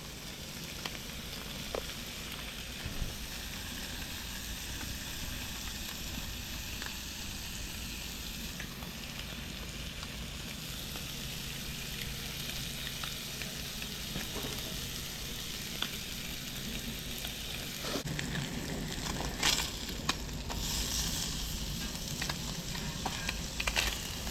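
Pieces of brown and rainbow trout fry in a pan with Old Bay seasoning, giving a steady close sizzle throughout with a few faint clicks and scrapes.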